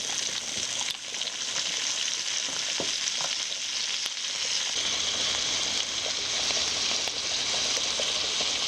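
Bacon and shrimp fry in a pan with a steady, dense sizzle and crackle, close and continuous, with a few small stirring clicks and pops over the hiss and no talking.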